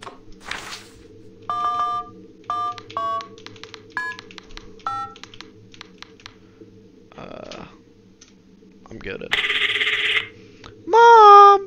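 Telephone keypad tones sound as a number is dialed, a series of short separate beeps in an irregular rhythm. Clicks and rustling fall between them, and a louder bleep comes near the end.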